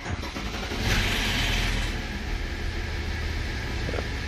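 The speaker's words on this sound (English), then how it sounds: "You can hear the rattle from the engine." An Audi engine, on an A6 or Q7, starts and settles into a loud, close rumbling idle with a noticeable rattle running through it, and no one talks.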